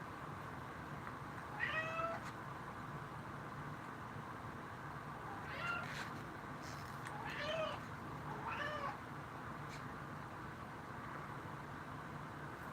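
A pet cat meows several times indoors, the short rising calls near and moderately loud over steady room hum, with brief pauses between them and no talk.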